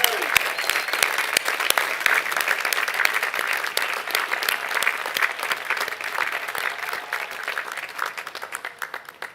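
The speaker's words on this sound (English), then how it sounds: "That deserves a very, very loud round of applause." Loud, sustained applause from a large crowd at a university undergraduate commencement ceremony, thick continuous clapping with sharp individual claps standing out near the microphone, tapering slightly toward the end.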